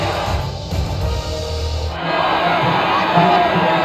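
A crowd cheers at the podium in the video game F1 25, starting under a low rumble and then swelling into a broad roar of cheering and shouting that fills the back half, with some voices in the mix.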